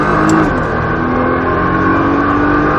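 A Nissan GT-R engine pulls hard at full throttle, a loud, close, steady mechanical roar with a rising harmonic drone and no talk over it.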